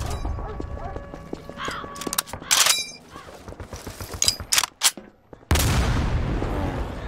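M1 rifle shots in a Garry's Mod WW2 team deathmatch ring out as several sharp, loud cracks spread across the moment, separated by quieter gaps, ending in a sustained noisy burst.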